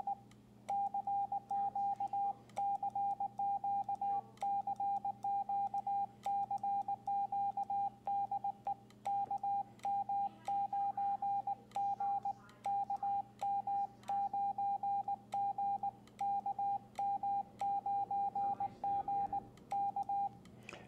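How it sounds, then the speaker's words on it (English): Morse code CW tones from a Xiegu X6200 radio keyed with an iambic paddle at 20 words per minute, a steady single-pitch tone pulsing in rapid dots and dashes through a CQ call with short gaps, over a faint background hum. "a CQ call on CW at 20 words per minute using an iambic paddle"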